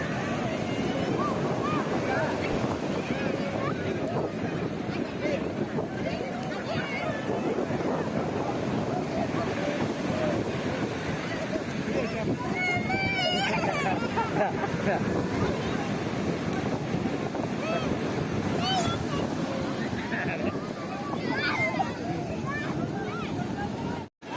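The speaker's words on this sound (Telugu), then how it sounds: "ఇక్కడ యానం బీచ్లో ఇప్పుడు చాలా పెద్ద పెద్ద కెరటాలు వస్తున్నాయి" Big sea waves roll and crash steadily at Yanam beach in Konaseema, Andhra Pradesh, a continuous loud surf roar mixed with heavy wind buffeting the microphone, with voices faintly underneath.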